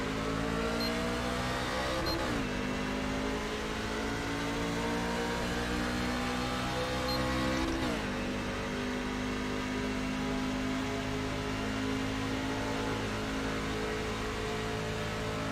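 NASCAR Truck Series race trucks accelerate together at the green flag at Kansas, a loud, steady roar of engines rising in pitch through two gear shifts and holding a dense drone.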